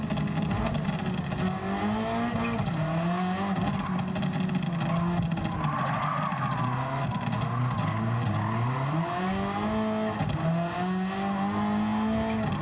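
A rally car in the Gran Turismo 7 racing game revs hard and continuously, its engine note climbing and dropping through gear changes and throttle lifts, with tire squeal mixed in and no voices.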